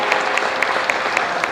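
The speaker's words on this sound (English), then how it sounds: "I want you to give yourselves a round of applause on that one" An audience at a podium address claps together, a short burst of dense, even applause that carries on steadily without voices.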